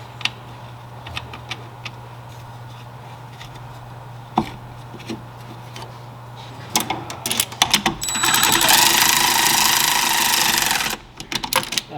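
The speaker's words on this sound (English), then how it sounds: "we're going to use our electric ratchet to run down the bolts" An electric ratchet runs down bolts on a 1982 vehicle in a shop, starting with scattered clicks and taps before a loud continuous whirring burst of several seconds that then stops abruptly.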